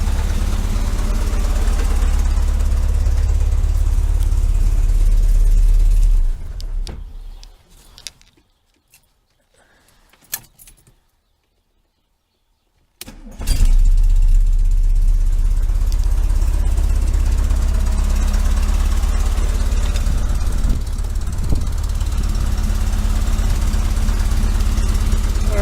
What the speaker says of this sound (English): I'm going to cut it off. I'm going to cut it back on, make sure that it comes back to the same idle.